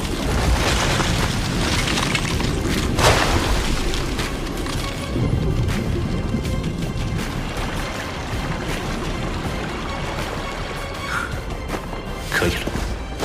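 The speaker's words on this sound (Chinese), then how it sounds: "冰爆术，冰爆术有瞬时和蓄力两种引爆方式" An ice burst spell goes off in the animated series Soul Land 2 with a heavy boom and crashing burst. A second sharp blast follows, and shattering debris and rumble continue under it.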